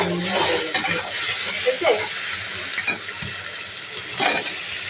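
Potatoes and eggs sautéing in a pan for a curry, with a steady low sizzle and soft, scattered stirring scrapes close by, and occasional louder clatters.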